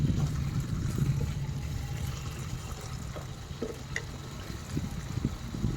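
Ground coriander-cumin powder and ginger-garlic paste being sautéed for chicken pulao give a quiet, low sizzle under soft, irregular scraping and stirring knocks from the pan.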